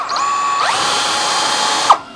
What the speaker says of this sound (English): the way to avoid that is to run the drill in reverse